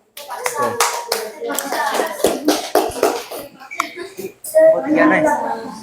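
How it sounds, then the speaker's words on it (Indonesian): Classmates in a junior high science lesson clap for a presenting student group, a brief burst of hand claps mixed with children's chatter and voices, fairly close and lively. "ya tepuk tangan untuk kelompok 2"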